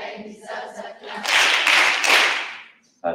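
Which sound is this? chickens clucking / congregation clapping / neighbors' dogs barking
congregation clapping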